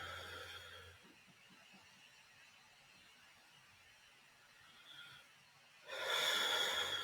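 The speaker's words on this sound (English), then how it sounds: "Breathing in and breathing out." Slow, deep breathing during a guided relaxation exercise: a soft, drawn-out airy breath is followed by a louder, fuller exhale near the end, close and calm.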